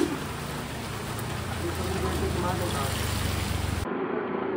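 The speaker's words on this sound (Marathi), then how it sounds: "पण खाता खाताच पाऊस आला आहे" Steady rain falling at a roadside stop near Lonavala during monsoon, a continuous broadband hiss that cuts off abruptly near the end.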